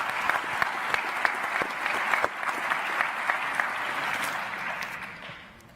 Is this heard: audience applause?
yes